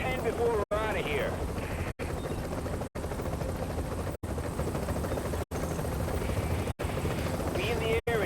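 Helicopter in a survival PvE video game, a loud continuous rotor drone with rhythmic chopping thrum running steadily throughout, broken by several brief dropouts, with faint speech-like sounds mixed in.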